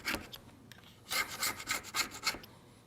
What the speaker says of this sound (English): You'll just have to take your scraper, kind of work it until it comes loose.